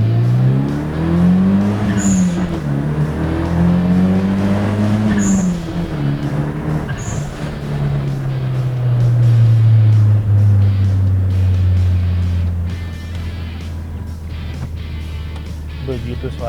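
A 1993 Mitsubishi Eterna GTI turbo sedan engine drones with the window slightly open, its revs swelling and easing in several waves before settling into a steady low hum, with a voice occasionally audible.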